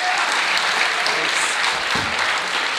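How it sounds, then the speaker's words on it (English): Steady, dense applause from a conference audience welcoming an independent games developer to the stage, continuous and fairly loud from start to finish. "a big round of applause"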